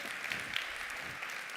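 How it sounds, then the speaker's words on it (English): A round of applause from a conference audience at a panel on energy transition finance, a dense, even patter of clapping, moderately distant and steady. "And I think this deserves a round of applause."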